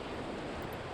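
Whitewater rapids of the Nolichucky River rush steadily, a dense broadband roar of churning water running unbroken through the whole second.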